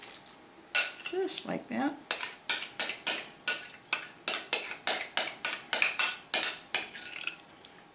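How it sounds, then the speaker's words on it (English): Crab dip scooped and scraped with a spoon into a casserole dish, a steady series of about fifteen close, rhythmic metal-on-dish clinks and scrapes, with a brief spoken remark near the start. "put it into the casserole"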